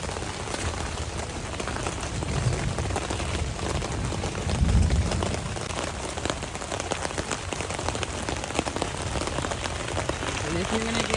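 Rain drumming steadily on a tent while camping outdoors, a dense continuous patter close at hand, with a few low bumps and faint voices in the background.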